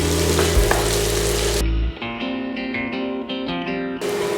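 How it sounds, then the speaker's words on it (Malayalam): Chopped onion sautés in a pan for a mushroom dish, giving a loud close sizzle that shifts partway through as it is stirred, with clinks of the utensil against the pan. "ഈ സവാള നന്നായി ഒന്ന് വഴറ്റിയെടുക്കാം"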